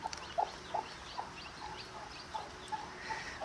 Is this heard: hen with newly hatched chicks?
yes